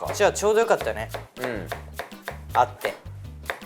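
Green onions chopped with a kitchen knife on a cutting board for chilled tofu topping, a fast steady run of crisp taps heard close, with people chatting over it.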